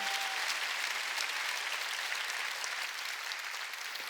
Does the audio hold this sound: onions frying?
no